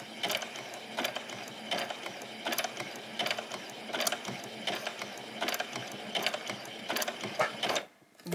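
A domestic sewing machine stitching a button onto a child's dress, running slowly in a steady series of short mechanical ticking bursts, fairly close, before stopping near the end.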